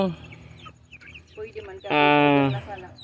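A Rhode Island Red chicken sick with fowl pox clucks and gives a drawn-out, loud squawk near the end, preceded by softer clucks and a faint voice nearby.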